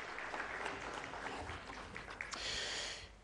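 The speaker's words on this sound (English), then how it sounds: "I believe you can do a loud applause for her." An audience at an African oil summit applauds, a sustained patter of clapping at moderate distance, with a brief breathy noise near the end.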